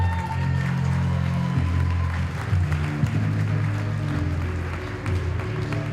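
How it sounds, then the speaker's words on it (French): Applause fills a vocational diploma award ceremony hall as a graduate claps for himself along with the crowd, a dense sustained patter with a low tonal hum beneath. "il s'applaudit lui-même"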